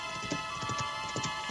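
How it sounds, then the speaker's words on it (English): Horse hooves clip-clopping at night in an old-time mystery radio drama, a steady run of hoof clops with a faint background hum, no voices. "Somebody riding a horse."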